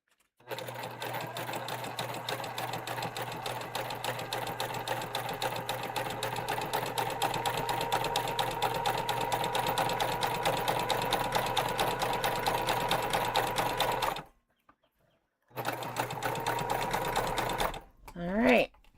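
A sewing machine topstitches a tote bag in a long, steady run of fast, close stitching that lasts most of the clip. It stops briefly, starts again for a short burst, and ends with a faint voice.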